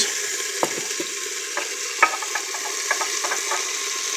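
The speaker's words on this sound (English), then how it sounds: "Give a little toss." Curry frying in a pan with crushed garlic, a steady bright sizzle throughout, broken by several soft clattering knocks as the pan is tossed and stirred, close and unaccompanied by talk.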